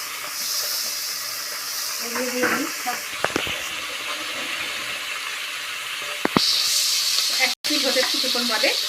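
Fish frying in hot oil in a kadai makes a continuous close sizzle, while a person talks intermittently over the crackling.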